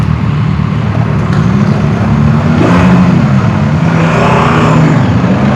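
A CFMOTO 1000MT-X motorcycle engine pulls hard under throttle, a loud, steady rising drone with shifting pitch swells and constant wind rush all the way through.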